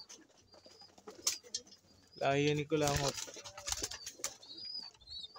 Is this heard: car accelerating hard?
no